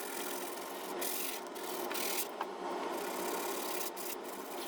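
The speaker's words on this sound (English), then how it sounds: "For the corners, you can put your sanding sponge like this," A sanding sponge rubs over wood filler on painted door trim in soft, quiet, continuous strokes, with a few brief pauses between passes.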